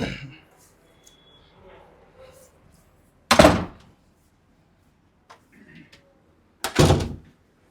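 A door is shut in a house, heard as two sharp, loud thuds about three seconds apart amid quiet room sound, with faint rustling between them.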